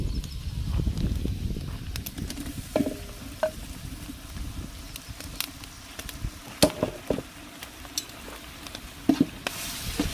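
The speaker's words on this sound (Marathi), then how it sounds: "वाटण भाजून घेऊ" Ground masala paste (vatan) roasts in a pan for a Katla fish curry, giving a steady close sizzle broken by scattered scraping and clinking from stirring, with no talking.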